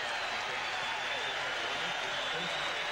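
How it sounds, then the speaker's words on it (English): Basketball arena crowd at a 2001 Louisville versus South Alabama game, a steady wash of applause and crowd noise filling the space without break. "A lot of applause, and why not?"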